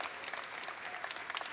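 Audience applause at an LGBTQ Pride flag raising ceremony, a steady, dense patter of many hands clapping throughout, moderately loud with no pauses.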